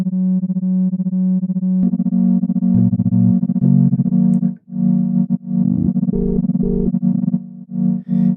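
A sine-wave tone from the FilterVerse synth plug-in plays steadily with distortion and effects applied, its pitch shifting between a few notes and the effects warping its timbre, with no voices.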